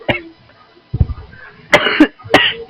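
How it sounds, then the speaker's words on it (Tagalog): Harsh, close coughs come in a quick burst and then several more in a row, loud and raspy, in a gaming stream setting. "Ubo-ubo tayo."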